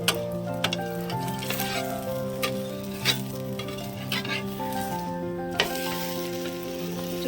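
Dosa batter made from wheat flour fries in oil on a pan, a steady sizzling hiss with occasional ticks and scraping taps over a sustained background hum, without talk.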